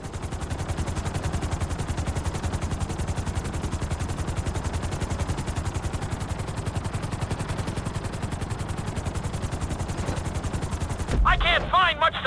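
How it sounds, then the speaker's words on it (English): A helicopter in GTA 5 flight school descends onto a helipad, its rotor chopping in a loud, fast, even pulse throughout, with a short burst of game voice at the very end as the beat stops. "Bring the helicopter down gently onto the helipad!"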